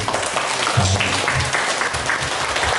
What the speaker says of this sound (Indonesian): Ini tepuk tangan buat Pak RW ya